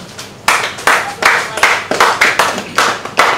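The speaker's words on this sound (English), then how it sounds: "you can do better with that round of applause on behalf of CMC" A round of applause at a studio unveiling and award event at a hotel and event center, heard as a few people clapping in distinct bursts with a rough rhythm, near and fairly loud.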